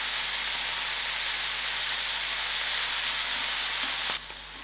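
Methi herbs (sprouts) sizzling steadily in a hot pan for a Sunday breakfast, a dense close hiss that cuts off abruptly near the end.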